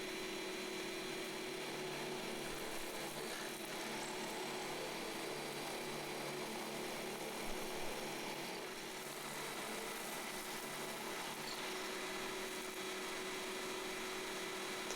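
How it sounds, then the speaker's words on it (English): Power drill boring holes into a wooden organ wind chest for a three-stop continuo organ, a steady continuous whine held throughout at close range with no talking. "these holes I'm drilling now"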